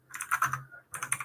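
Computer keyboard keys tapped during a ggplot2 coding workshop, a quick flurry of clicks, a short pause, then another burst, close and moderately loud with no talking.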